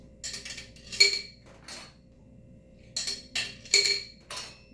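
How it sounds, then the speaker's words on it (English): Borosilicate glass test tubes clink and chink as they are lowered into a tilted beaker before autoclaving, a few light bright taps in two short clusters over a quiet background hum. "Tilt the beaker to the side to prevent it from crashing into the bottom. You don't want to break any test tubes."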